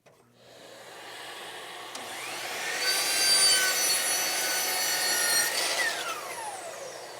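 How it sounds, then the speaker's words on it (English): A power saw cuts a 45-degree miter on the end of a wooden board for a box. The whine rises as the blade bites, holds steady through the cut with no talk, then winds down. "miter cut on the end of this board."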